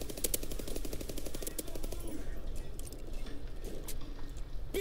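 Rapid bursts of gunfire from Call of Duty WW2 gameplay, a dense rattling volley at first that thins into scattered shots, with game ambience behind.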